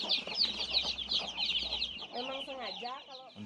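Free-range village chickens on a traditional Balinese farm cluck in quick, close bursts, with a few longer, wavering calls near the end and faint background voices.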